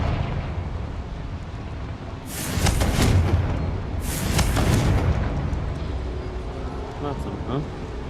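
A Confringo fire spell from the Hogwarts Legacy video game bursts in two loud, broad explosive blasts a couple of seconds apart, over a steady rumbling game soundscape.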